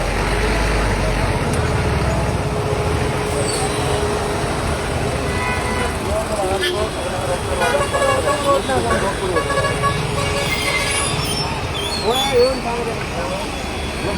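Traffic at a Panjim road junction blocked by trucks, a steady roar of engines with scattered car horn toots and voices talking over the din.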